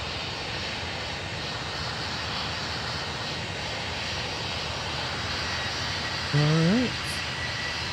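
An Embraer 175 jet in the Tower Simulator 3 video game gives off a steady, distant engine roar that fills the whole clip, while a voice speaks briefly near the end.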